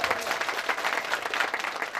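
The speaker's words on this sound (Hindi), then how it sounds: "मैं उनके लिए जोरदार तालियां जरूर चाहूंगा" A crowd applauds steadily, dense clapping from many hands filling the whole moment without pause.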